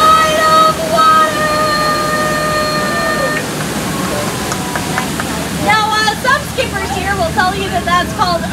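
Steady rushing waterfall noise at the Disney Jungle Cruise ride at Walt Disney World, heard beneath a tonal horn and lively talk near the boat.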